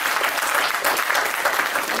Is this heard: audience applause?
yes